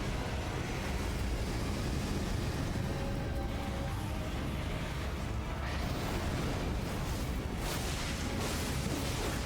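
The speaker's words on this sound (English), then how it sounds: "Big explosion." A big explosion in the Elden Ring video game, with a dense, loud, broadband roar that fills the whole clip without pause and leaves no clear separate blasts.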